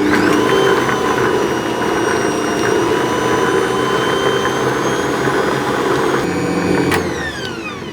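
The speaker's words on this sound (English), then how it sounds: "I'm going to whisk those together until they combined and they're nice and" An electric mixer whisks butter until fluffy, making a loud, continuous motor whine that holds steady throughout with a slight drop near the end.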